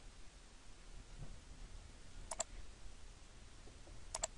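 Computer mouse clicked while working in AutoCAD, two faint, sharp double clicks a couple of seconds apart over a quiet background hiss.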